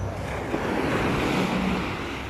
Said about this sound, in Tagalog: Maganda yung dagat kaso lang medyo maalon, gawa ng habagat ba.